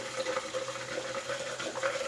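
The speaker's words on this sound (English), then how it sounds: "We'll get some water in here." Tap water running steadily into a shaving bowl, a continuous close splashing hiss with no talk over it.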